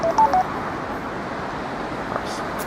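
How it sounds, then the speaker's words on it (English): A phone alarm gives a few short electronic bleeps at the start, heard outdoors on a Blackpool seafront over steady traffic and wind noise. "Alarm on the phone going off."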